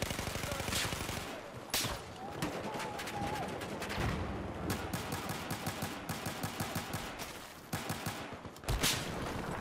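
Rapid gunfire in the Battlefield 4 video game, with dense bursts of automatic shots and a few heavier single cracks, loud and continuous throughout with no clear talking.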